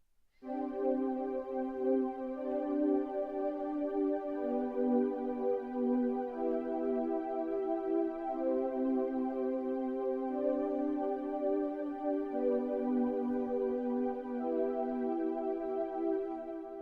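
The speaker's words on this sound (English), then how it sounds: "It's kind of a distorted sounding pad," A distorted synthesizer pad patch in MainStage holds sustained, harmonically rich chords that shift every couple of seconds, steady and loud on its own without pause.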